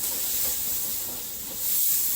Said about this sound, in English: I'm sauteing the onions till they're translucent